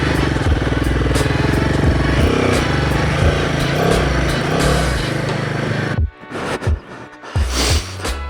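A Royal Enfield Himalayan 450 motorcycle ridden off-road, its engine loud and close with a steady chugging drone that cuts off sharply near the end, followed by a few scattered bumps and thuds.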